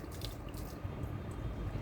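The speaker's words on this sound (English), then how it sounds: "I took water in this safety helmet. Now I'm gonna wash my face." Water scooped from a safety helmet splashes onto a face outdoors, giving close, continuous wet splashing and dripping with no talk.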